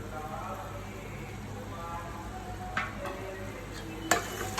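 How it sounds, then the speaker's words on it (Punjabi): A spoon stirring a pan of pumpkin and phool vadi vegetable dish, soft and quiet with a faint continuous sizzle and a couple of sharp scraping clicks against the pan. "ਚੰਗੀ ਤਰ੍ਹਾਂ ਮਿਕਸ ਕਰਾਂਗੇ"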